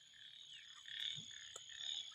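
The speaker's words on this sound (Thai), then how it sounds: "เสียงกบเสียงเขียด" Frogs croak faintly in a rural farm setting, a few scattered calls over a steady high-pitched chorus of night sounds.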